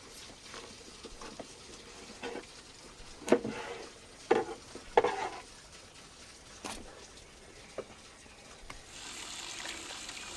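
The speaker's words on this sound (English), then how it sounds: "let's give the meat a good rinse to wash away any bone fragments" Beef ribs are rinsed under running water, with quiet trickling and a few brief splashes before the tap flow becomes a soft, steady rush near the end, with no voices.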